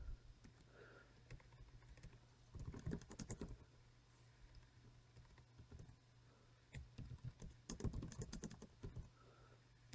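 Typing on an Inateck ultraslim Bluetooth keyboard, with close, soft clicky keystrokes in irregular bursts and pauses over a low steady hum.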